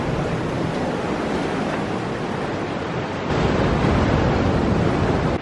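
Ocean waves wash continuously onto El Matador beach, a dense roar of surf mixed with wind buffeting the microphone, growing slightly louder toward the end, with no voices.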